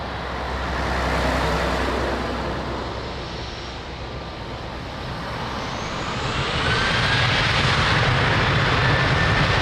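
A fixed-wing airliner takes off from runway 02 at Lisbon Airport, its engine roar building steadily into a loud, broad rumble that swells and holds near the end, with no talk over it.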